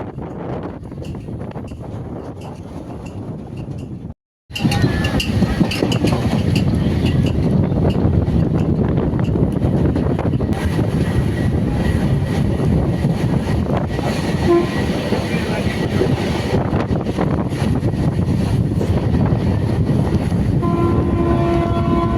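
A Tirupati to Chennai MEMU express train runs along the line with a loud, continuous rumble and rattle of its cars. A brief dropout comes early on, then the rolling noise returns at full strength.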